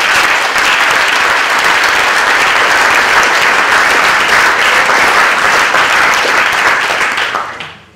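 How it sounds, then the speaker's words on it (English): An audience applauds a panel speaker at a talk event, loud, dense and continuous clapping from a large crowd that holds steady for several seconds and then quickly dies away at the end. "So please send her lots of energy in your applause."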